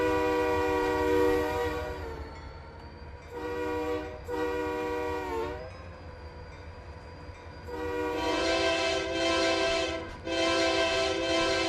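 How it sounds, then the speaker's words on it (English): Multi-chime BN locomotive horn in the Trainz railway simulator, sounding in several loud sustained blasts of varying length with brief gaps, over a steady low engine rumble. "I love how home BN engine almost sounds like a whistle."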